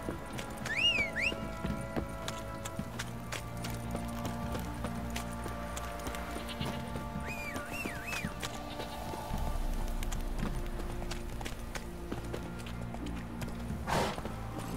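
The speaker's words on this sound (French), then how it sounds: "T'as la bourre mon cheval." A horse gallops in The Witcher 3 video game, a steady run of hoofbeats under busy game music and ambient sound at moderate level.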